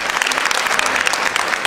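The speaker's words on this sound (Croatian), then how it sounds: "gospodinu Bobanu Prodanoviću, jedan veliki aplauz." A concert audience claps loudly and steadily, a dense close burst of applause lasting under two seconds.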